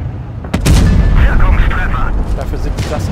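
A tank cannon fires in the video game World of Tanks Blitz, a single loud, close, booming shot that rumbles and echoes for several seconds while a player talks.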